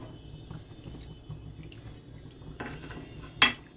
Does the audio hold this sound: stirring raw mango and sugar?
yes